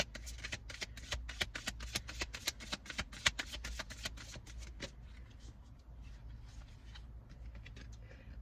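Tarot cards drawn and shuffled from a deck, a quick run of soft papery flicks and slides close up for several seconds, then fading to faint rustling.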